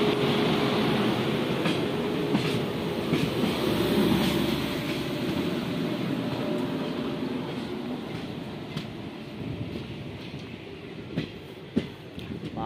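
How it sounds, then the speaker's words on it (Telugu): The Kakatiya Express pulls out of Nekkonda railway station with a steady rumbling roll and scattered clicks and clanks of wheels over rail joints, heard from on board without any talk. "So friends train Nekkonda railway station నుండి డిపార్చర్ అవుతుంది."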